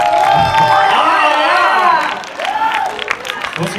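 An audience at a school concert in a lycée applauds and cheers loudly, with whoops and shouts over dense clapping that fades somewhat toward the end.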